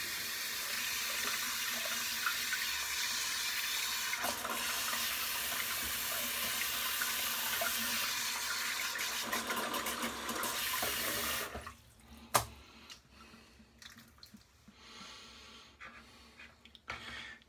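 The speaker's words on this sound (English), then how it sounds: "wet the brush because it's synthetic and just squeezed out the excess water" Water runs steadily from a tap over a synthetic shaving brush for about eleven seconds, then stops, followed by quieter wet squeezing and dripping as excess water is pressed out, with one sharp knock near the end.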